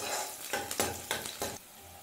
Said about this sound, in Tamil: இந்த எண்ணெயிலே லேசாக வதக்கிக்கோங்க.